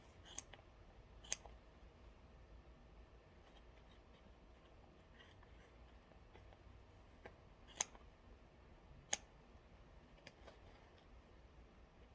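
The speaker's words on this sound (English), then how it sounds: "To remove this, you use bandage scissors and cut proximal to distal." A few sharp snips of scissors cutting through material, spaced out and fairly close, against a quiet background hum.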